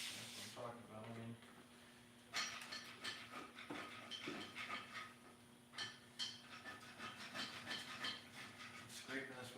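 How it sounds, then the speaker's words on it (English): Screwdriver scraping an LS engine intake head: a series of uneven metallic scrapes and clinks in a shop, close and fairly quiet, with someone talking over parts of it. "scraping this with a screwdriver"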